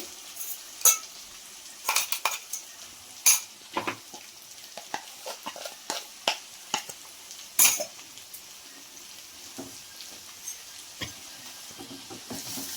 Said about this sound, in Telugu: దీన్ని బాగా కలుపుకోవాలండి మనం చేసిన పొడి కరెక్ట్గా సరిపోతుంది దీంట్లోకి